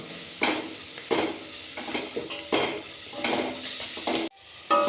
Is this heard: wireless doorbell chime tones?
no